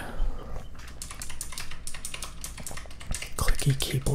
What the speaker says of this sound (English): Clicky keyboards are for noobs.